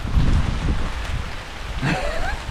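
Steady rain falls around someone walking outdoors in a downpour, a continuous broadband hiss with gusty wind buffeting the microphone and a few brief louder splashes and rustles near the end.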